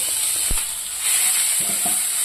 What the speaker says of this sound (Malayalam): നമ്മുടെ ഇഞ്ചി വെളുത്തുള്ളിയൊക്കെ നല്ലത് മൂത്തിട്ടുണ്ടേ